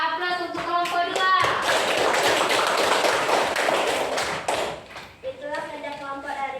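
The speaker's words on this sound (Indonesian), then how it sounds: "Kasih aplaus untuk kelompok 2." Classroom applause for a student group: a few scattered claps, then a burst of dense, loud clapping for several seconds that fades out, with someone speaking before and after it.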